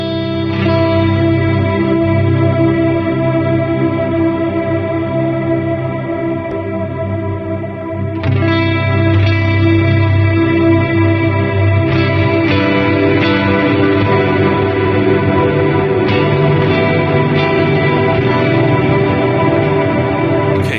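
Guitar played through a Red Sea effects pedal in its wet dry wet stereo mode, giving sustained, chorused and slightly distorted chords with echo and reverb that ring on without pause, with fresh strums at several points.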